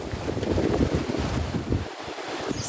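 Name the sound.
wind by the sea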